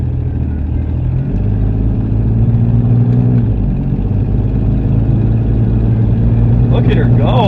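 A stock Pontiac Fiero GT engine drones loud and steady as the car pulls hard on an eighth-mile run, with the pitch shifting between gears and people talking over the cabin noise.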